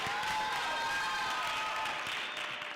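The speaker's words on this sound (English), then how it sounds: "Come on, guys, a round of applause." Faint, steady applause from an audience at a children's summit in Kenya, a soft continuous patter of clapping mixed with a sustained tonal crowd hum.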